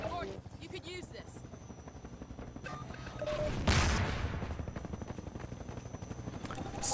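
In the video game Half-Life 2: Episode 2, a helicopter whirs steadily while gunfire rattles in bursts, rising to a loud boom-like peak midway, with game speech in the background.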